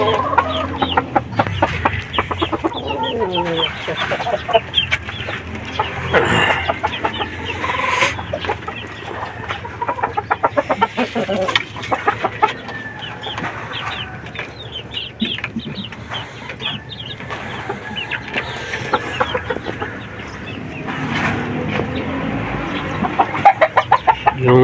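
Chickens cluck and call close by in a farmyard, a bulek hen among them, with steady overlapping fowl vocalisations and occasional sharper clucks.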